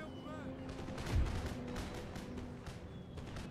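Musket volleys crackle across an Empire: Total War battlefield, scattered reports popping at mid distance over a steady low rumble of massed units, with one heavier burst near the start.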